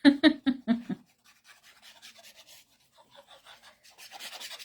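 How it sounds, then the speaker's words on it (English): Card being cut by hand in a papercraft session, with a few sharp rasping strokes up close, followed by softer scratchy scraping and rubbing that grows a little louder toward the end. "There is something quite satisfying about the sound of card being cut."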